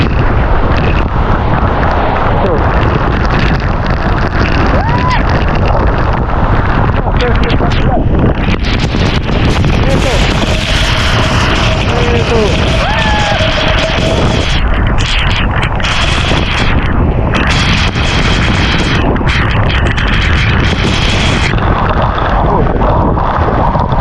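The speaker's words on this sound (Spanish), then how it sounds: "cascada está espectacular, observen esto." The Manto de la Virgen waterfall roars as a continuous, loud, broad wash of rushing water with gusting wind buffeting the microphone. Faint voices are buried in the noise.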